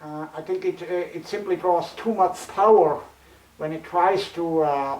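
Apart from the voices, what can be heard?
No everyday noise stands out behind the speech.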